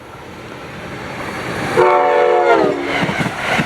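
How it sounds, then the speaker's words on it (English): An Amtrak passenger train, cab car leading, rushes past with a rising rumble, its horn blaring in a long, loud blast midway before the roar continues. "a 30-minute late Amtrak 669 heading to Harrisburg flew by with cab car 9651 leading"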